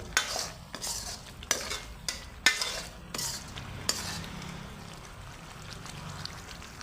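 Palak paneer being mixed in a pan: several sharp clacks and scrapes of a spoon against the metal over a low, bubbling sizzle that settles into quieter stirring.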